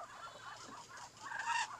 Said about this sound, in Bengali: এরা ডিম দিব, এরকম সাউন্ড করে চীন হাঁস।